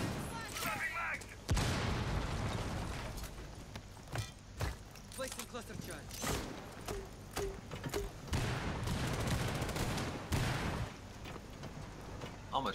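Gunfire in Rainbow Six Siege: rapid bursts of distant shots crackle over and over, fairly faint, while players talk throughout.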